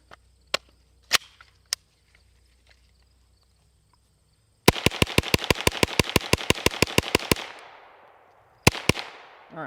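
Gun test-fired with Federal ammunition: a few spaced single shots, then a rapid string of about fifteen sharp, loud reports, followed by a final close pair of shots.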